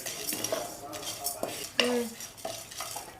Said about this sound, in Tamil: இந்த தேங்காயும் கொஞ்சம் நல்லா வதங்கி வாசனை வரும்